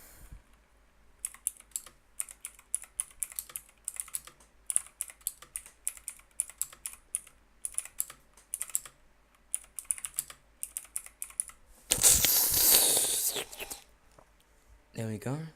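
Rapid key clicks from a computer keyboard during touch-typing practice, coming in quick bursts and short runs with brief pauses, up close and clear, before a loud rustling burst near the end.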